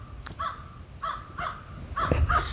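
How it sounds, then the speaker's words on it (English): Crows caw outdoors at a campsite, about five harsh calls arriving in short irregular bursts at moderate distance over a faint low background rumble, with no talk. "The crows are saying, you're ready."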